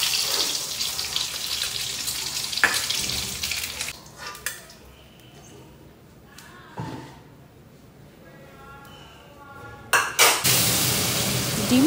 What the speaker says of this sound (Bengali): ডিমটা এক এক করে ভেজে নিয়ে তারপর এবার ওই তেলের মধ্যেই আলুটাকেও ভেজে নিচ্ছি